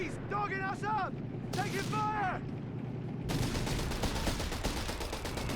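Rapid bursts of small-arms and machine-gun fire crackle through a Company of Heroes 3 battle, with a dense sustained volley toward the end, mixed under ongoing game sounds and a commentator's voice.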